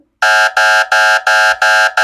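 A loud electronic timer app alarm beeps in repeated bursts after a countdown reaches zero, six evenly spaced harsh tones with short gaps, sounding alone after a brief silence.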